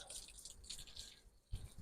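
Clean water drips and splashes gently over the fat tyres of an e-bike, a few soft close patters followed by one louder splash near the end.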